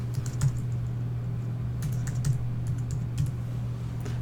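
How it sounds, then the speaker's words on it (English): Brief typing on a computer keyboard, a handful of quick light key clicks in small clusters over a steady low hum, close and quiet with no speech. "So we're just going to type in the word medium"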